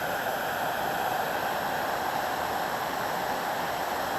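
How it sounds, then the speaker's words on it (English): Waterfalls on a Lake District fell walk along the Fairfield horseshoe give a steady, broad hiss of falling water, soft and continuous, with no voices over it. "Some nice waterfalls here."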